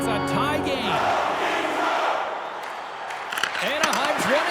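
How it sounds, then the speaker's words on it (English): Simulated hockey arena crowd in NHL 26 during a tied Kings versus Ducks game roars steadily and loudly throughout, with brief voices and tonal calls rising at the start and near the end. "You can feel the energy in this crowd."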